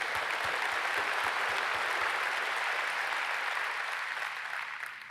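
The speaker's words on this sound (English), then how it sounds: "Give yourself a round of applause." A conference audience at a talent industry event breaks into steady, dense applause that fills the room, many hands clapping at once before tapering off slightly near the end.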